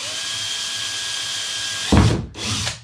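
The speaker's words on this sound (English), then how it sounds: "And that's all you're doing, just drilling them out." A power drill with a 3/16 bit bores a hole into a Pelican Trek 60 sled for a runner kit, a steady whine building to a loud bite as the bit cuts through, then a brief pause and a second burst.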